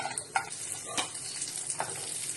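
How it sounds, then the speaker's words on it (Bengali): Almonds and cashews sizzle in about two spoons of ghee in a pan, a soft continuous fry broken by a few brief clinks and stirs. "কিছুটা ড্রাই ফ্রুট নিয়েছি, আমন্ড আর কাজু বাদাম। এটাকে ঘিতে ভেজে নেব"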